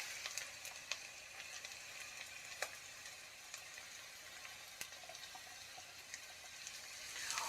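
Garlic frying in a pan with onions for Kenyan samosa filling, a faint steady sizzle with scattered small pops and crackles, quiet and close with no talk.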